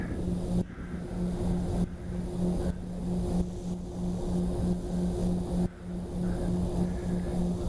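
A farm vehicle drives past outdoors near a small scratch-built STOL model plane, its steady engine hum holding throughout with a few brief dips.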